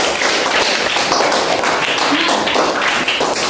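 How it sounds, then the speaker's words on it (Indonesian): Students in a classroom clap for a classmate, producing a dense burst of steady hand applause that lasts about three and a half seconds, close and fairly loud. "tepuk tangan untuk Rahmat."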